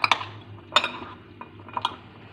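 A spoon stirs chana chaat with red sauce in a dish, giving a few sharp clinks against the bowl with soft mixing sounds between them over a faint background hum.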